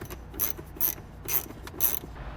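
A ratchet clicks in four short bursts while a car dashboard is bolted back into place, the quick metallic ratcheting close and fairly quiet with brief pauses between strokes.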